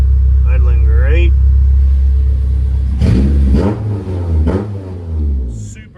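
A JDM Honda S2000 fitted with a Maxxecu engine management unit idles with a deep, steady rumble, then gets a couple of sharp throttle blips that rise and fall, loud and close, while someone talks briefly at the start.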